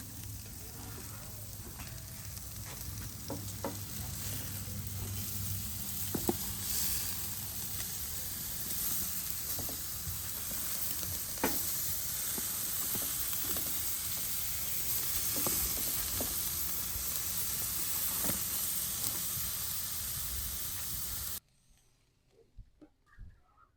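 Brazilian ribeye steaks sizzle steadily in a hot pan, an even hiss with scattered pops and spits that carries on for about twenty seconds before stopping abruptly.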